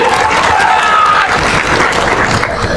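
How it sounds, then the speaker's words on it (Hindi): A crowd claps loudly at a political rally in Bihar, dense continuous applause close by with a voice speaking over it. "आप देखिए लोग कितना जोर से ताली बजा रहा है"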